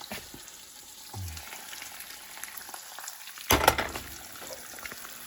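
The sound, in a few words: eggs frying in a pan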